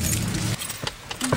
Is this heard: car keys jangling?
yes